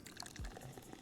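A short, faint splash and fizz of soda pouring in a Cities Skylines radio advert, brief liquid dripping and bubbling with no talk.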